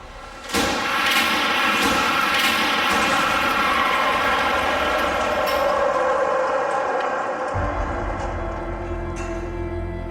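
A car slams into a 3-ton tractor during a crash test, a sudden loud impact followed by a long, sustained roar of grinding, scraping metal that rings on before settling into a steady low rumble.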